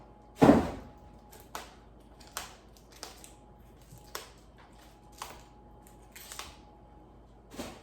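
A knife chops the green leaves off a cauliflower with a series of sharp, close clicks and taps on a board, one louder cut at the start and then regular lighter strikes.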